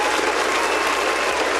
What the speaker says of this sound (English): Kudos. Round of applause.